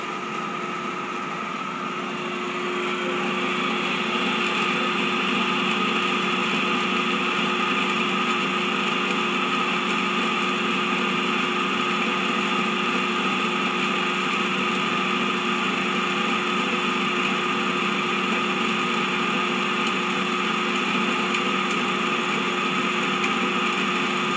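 Electric motor in Mawdsley's AC-DC converter lab setup, humming steadily with a tonal whine that settles into an even, continuous drone, close and alone with no talking.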